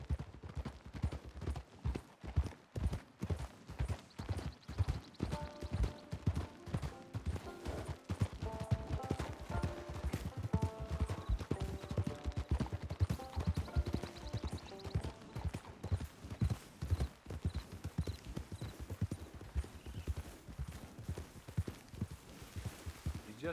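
Horse hooves clip-clop at a steady walking rhythm in Red Dead Redemption Online, with repeated close, even hoofbeats running the whole time beneath soft ambient game music.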